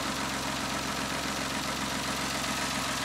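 Citroen C1 engine idling with an alternator newly replaced, a steady, continuous mechanical hum close by with faint knocking texture, no voices.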